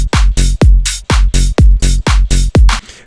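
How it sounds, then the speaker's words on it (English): Tech house drums with sidechained bass, produced in Ableton Live: a steady four-on-the-floor kick pumps loudly, the bass ducking and swelling back after each hit in a tight repeating groove, with no voices. "now, if we listen to this with the bass or with the drums"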